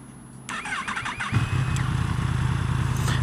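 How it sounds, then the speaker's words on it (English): A 2016 Yamaha MT-10 motorcycle engine cranks with a brief whirring starter, then catches and settles into a loud, steady, deep idle close by. "I like the sound it makes when it starts up."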